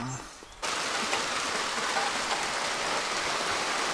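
Steady rain falls on an Italian backyard, a loud even hiss of drops that starts abruptly and continues unbroken with no talk.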